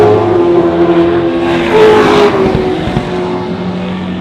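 TransAm race cars, Mustangs, Camaros and Firebirds, roar past loudly at an Australian circuit, engines rising and falling in pitch as a car sweeps by close, with a dense continuous engine drone throughout.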